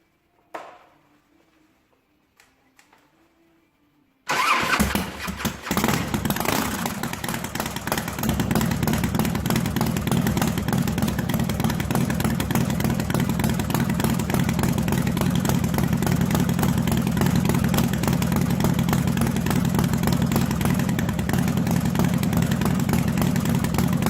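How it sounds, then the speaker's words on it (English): A Harley-Davidson Softail V-twin, newly fitted with S&S gear-driven cams, cranks over after a few seconds of near silence, catches and settles into a loud, steady, continuous idle close to the mic, with no talking. "Now we're just going to see if she'll run."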